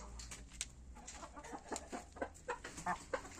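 A young chicken, a penciled hen's chick, clucks in short, soft bursts close by, a quick irregular series of chirpy clucks over faint background noise.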